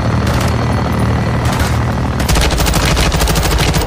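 Dense automatic gunfire from Call of Duty: Modern Warfare 2, loud and continuous, with rapid bursts that intensify into a steady rattling volley in the second half.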